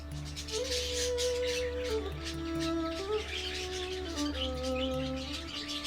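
Budgies chirp steadily inside a heated budgie aviary, a dense layer of close, overlapping twittering and short warbling calls continuing throughout with no talking.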